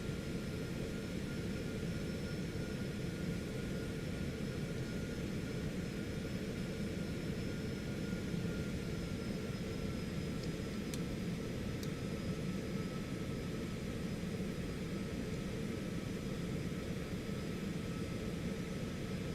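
Citation X business jet engines idling at minimal thrust on approach in a flight simulator, a steady broad whine and rumble holding level throughout with faint high tonal hum.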